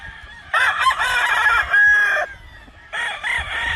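A black McRae game fowl rooster crows loudly and close by, two strong crows separated by a short pause, with no talking.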